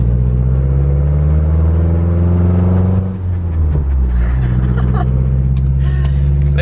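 New Kenda tires with the stickers still on roll along the road beneath a car at highway speed, giving a steady loud low rumble and tonal hum that dips briefly midway, with faint higher whirring noise later.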